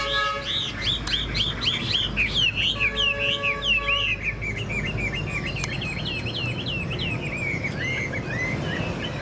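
A Chinese hwamei songbird with a yellow beak sings continuously up close, pouring out rapid, looping whistled phrases and chirps over a low background hum, with no talking over it.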